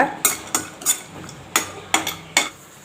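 Cashews being fried in ghee are stirred around a pan, giving about seven sharp spoon-on-metal knocks at an uneven pace, close and clear, over only a faint sizzle.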